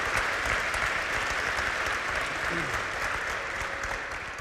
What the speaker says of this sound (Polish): Brawa dla wszystkich świętokrzyskich przedsiębiorstw